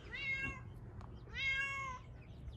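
A cat with a limp, kept in a kennel all day, lets out two long, loud, yowling meows separated by a short pause, close by and alone.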